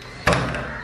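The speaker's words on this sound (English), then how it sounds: "I think we're opening this door." A door being opened beside a huge spider at a floating resort in Kerala, heard as a sudden close knock or thud followed by a sustained rattling, scraping rumble as it swings.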